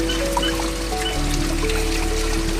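Cold spring water pours and trickles steadily from a mountain spout in monsoon hills while containers are filled, a continuous close splashing flow with no talk.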